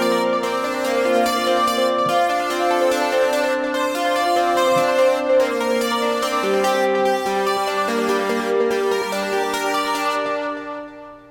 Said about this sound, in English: One is called Juno Octave Arp Plucker, and it sounds like this.